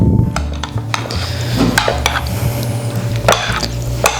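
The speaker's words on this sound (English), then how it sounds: "And then we're going to mix it all together again." Green beans being stirred together in a pot or bowl for a green bean casserole, with close scraping, clinking and squishing of utensil against cookware in irregular bursts, and no talk.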